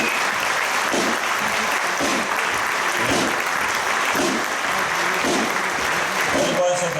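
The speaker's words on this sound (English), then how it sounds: "I think that deserves another round of applause." Concert audience applause at a flute band's 50th anniversary show, a steady dense wash of clapping filling the whole stretch, with voices apparently mixed in underneath.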